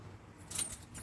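A bunch of building keys jangles briefly up close, a quick bright metallic rattle over a low hum.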